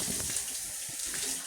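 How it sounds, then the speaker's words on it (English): Warm water running from a tap while an African net sponge is rinsed in a sink or tub, a steady, close, continuous splashing rush. "And then I'm just rinsing the sponge."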